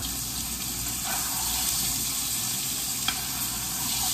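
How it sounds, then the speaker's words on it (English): Steak frying in a generous amount of butter gives a steady, loud broadband sizzle throughout, with a couple of faint spoon clinks as the butter is basted over the meat. "I'm gonna add a little bit of butter and then I'm gonna splash it all around all over the place"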